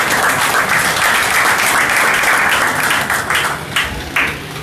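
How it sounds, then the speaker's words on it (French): An audience claps at a fundraising meeting held by the MRC in Douala, loud, dense applause from a sizeable crowd that holds strong, then thins into scattered individual claps toward the end. "Je crois que ça mérite l'applaudissement."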